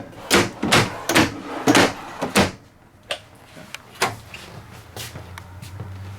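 Kitchen drawers and cabinets in a 2018 Newmar Bay Star 3401 motorhome opened one after another, a quick series of close sliding thumps and clacks followed by sparser knocks, with a quiet hum underneath.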